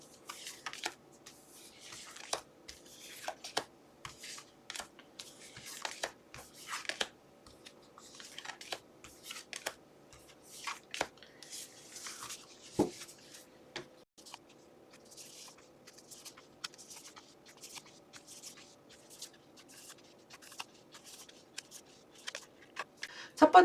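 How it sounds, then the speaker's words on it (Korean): Tarot cards are shuffled and drawn in a quiet room, giving many quick crisp riffles and taps spread irregularly over about twenty seconds, close and fairly soft, with occasional quiet speech. "우리 1번 별아님들의 9월 11일부터 17일까지 어떤 일이 있을지 카드 한번 뽑아볼게요."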